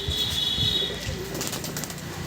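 Pigeons are released, a brief close burst of flapping wings with a faint chirp over outdoor background noise.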